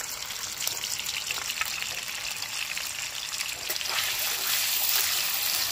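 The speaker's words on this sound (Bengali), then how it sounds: "পনিরটাকেও হালকা বাদামি করে ভেজে নেব।" Paneer cubes frying in a pan for a winter vegetable mung dal, a steady hissing sizzle that stays moderate and even and swells slightly near the end, with no talking over it.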